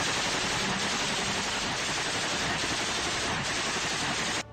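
A machine gun fires in sustained bursts during fighting between Russian and Ukrainian forces in Mariupol: a dense, loud, continuous rattle of rapid shots filling the whole stretch before stopping abruptly, with no speech.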